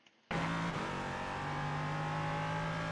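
A loud LMP3 race car engine in the iRacing sim bursts in after a brief quiet start and holds a steady, high, full-throttle drone as it accelerates uphill at Okayama, with no voices.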